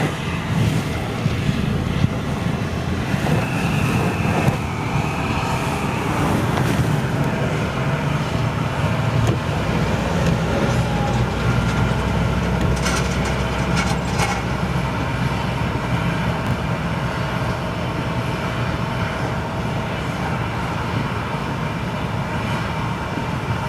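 Boeing 777 freighter jet engines roar airside at Frankfurt airport, a loud sustained broadband rumble and whine that holds steady throughout, with no talking over it.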